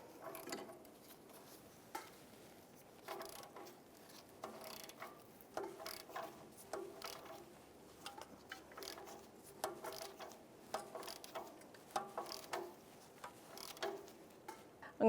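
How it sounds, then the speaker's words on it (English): Ratchet turning an O2 sensor socket to tighten the upstream oxygen sensor on a 1999-2004 Jeep Grand Cherokee, heard as faint, repeated ratchet clicks in short bursts with pauses between them, with no talking. "Take your O2 sensor socket, bring it over the top, line up the base, and go ahead and tighten that up."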